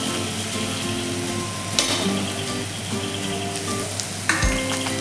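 Ground ridge gourd pieces fry steadily in a hot pan, a continuous close sizzle with a couple of sharper bursts as the mixture is stirred and turned.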